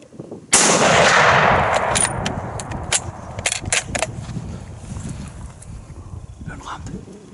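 A hunting rifle fires a single loud, sharp shot outdoors during a hunt on Læsø, its report rolling away in a long decaying echo, followed by quieter scattered ambient sounds.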